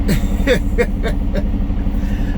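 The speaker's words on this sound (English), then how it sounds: "There's a truck coming out first." A truck pulls out ahead onto the road, its engine a steady loud rumble close by, with faint brief tones over the drone.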